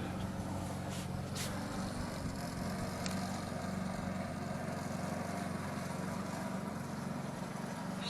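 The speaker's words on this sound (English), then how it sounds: "She wanted to use the push mower." A push lawn mower engine runs outdoors with a steady, close, continuous drone that holds an even level throughout, with no talking.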